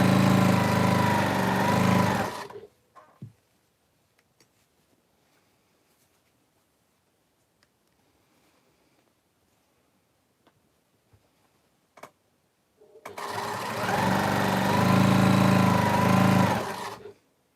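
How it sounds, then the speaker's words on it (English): A sewing machine stitches pieces of fabric together in two loud, close bursts of rapid mechanical whirring, separated by a long quiet stretch with a few soft clicks and taps. "I'm sewing those together now."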